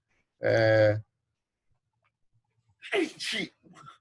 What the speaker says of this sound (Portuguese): Desculpa, pessoal, pelo espirro aqui